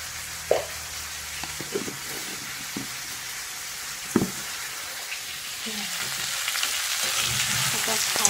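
Food frying in a pan with salt and turmeric being stirred, a steady soft sizzle with occasional scraping and clinking of the utensil, fairly close, growing slightly louder toward the end.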